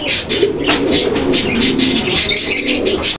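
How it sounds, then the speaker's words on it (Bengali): A pair of Lahori pigeons coo close by in repeated soft, throaty rolling calls, layered with a few brighter chirps from other birds, with no talking. "বন্ধুরা আমরা এই মুহূর্তে আপনাদেরকে দেখাচ্ছি এক জোড়া লাহোরি কবুতর"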